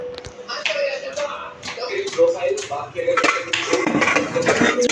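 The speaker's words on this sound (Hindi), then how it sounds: "मैं इसके लिए भिंडी पकाने के लिए पतीला निकाल दूँगी" A metal cooking pot is pulled out and handled in a home kitchen for cooking okra, with close clattering clanks and scrapes of pans while someone talks over the noise.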